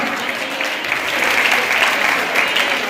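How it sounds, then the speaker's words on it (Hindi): Loud, sustained applause from an audience at a ceremony honouring women, a dense wash of clapping that swells slightly midway and continues without a break. "इसके लिए जोरदार तालियां"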